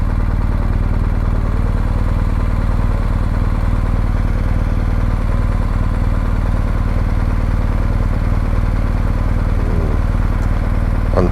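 A Ducati motorcycle engine idles steadily at tick over, a close, even, continuous rumble with a light mechanical clatter throughout and no talk.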